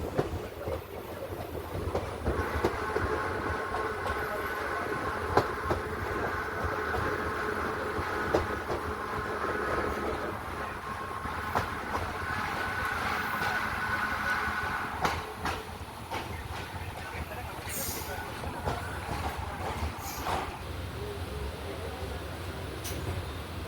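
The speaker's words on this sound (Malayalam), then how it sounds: "മാവേലിക്കര സ്റ്റേഷനിലേക്ക് അങ്ങനെ ട്രെയിൻ കയറിക്കൊണ്ടിരിക്കുകയാണ്" Inside the Velankanni Express, a diesel-hauled train pulling into Mavelikkara station: a steady low rumble and rattle of the carriage with faint rail clicks and a few sharp metallic knocks, moderately quiet, with people's voices murmuring in the background.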